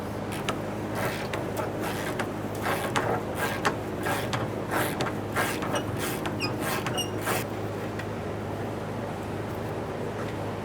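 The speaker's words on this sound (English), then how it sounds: "We'll start removing the bolt from along the front as I mentioned." Wrench work loosening a control arm bolt on a 1992-1996 Toyota Camry rear suspension, a run of close, irregular metallic creaks and clicks over a steady low hum, with no talk.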